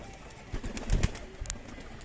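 Pigeons coo in a home loft, a few low, soft throaty coos rising briefly over a faint steady background, with no one talking.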